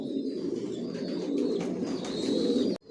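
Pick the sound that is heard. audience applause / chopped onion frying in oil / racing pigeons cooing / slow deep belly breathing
racing pigeons cooing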